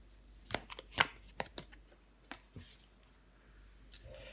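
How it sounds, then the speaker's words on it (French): Tarot cards are handled and laid down on a table, one placed over the eight of cups. Several soft, sharp taps and slides come in a loose cluster, then a few scattered quieter touches, close and faint, with no talk. "Je vais recouvrir le 8 de coupe."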